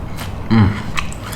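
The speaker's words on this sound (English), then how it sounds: "So crunchy. I love it when the chicken is really crunchy like that." A single close crunchy bite into breaded spicy fried chicken, one short sharp crackle followed by faint chewing, with no talking.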